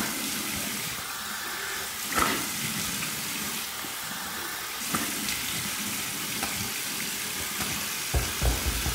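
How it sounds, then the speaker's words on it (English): Cold water splashing and running steadily with a broad hiss as it is rinsed onto a face, a few sharper splashes and drips punctuating it, close by, no voices. "Here's my cold water rinse."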